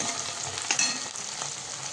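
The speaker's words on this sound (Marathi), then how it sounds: "आता टोमॅटो पण चांगला परतवायचा आहे." Tomato and vegetables are sautéed in oil in a pan for schezwan fried rice, giving a steady, close sizzle with a few brief stirring scrapes.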